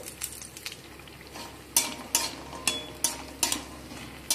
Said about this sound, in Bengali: বড়িগুলোকে এখানে আমি লাল লাল করে ভেজে নেব।